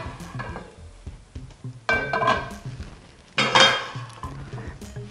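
A skillet and pans clank and scrape on a kitchen stove in a few distinct bursts of metallic clatter, close by and moderately loud, separated by quieter handling sounds.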